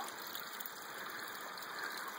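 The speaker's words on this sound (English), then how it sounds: "I do believe I've found the source of the spring. It's just coming right out of the ground, right at the top of this rock." Spring water gushes straight out of the ground at the top of a rock, a steady, close, full-bodied rush that never pauses.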